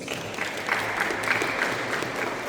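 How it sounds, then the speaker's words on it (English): An orientation audience of university students applauds in a hall, a dense sustained wash of many hands clapping at moderate distance for a couple of seconds, without speech over it. "you can clap your hands for that"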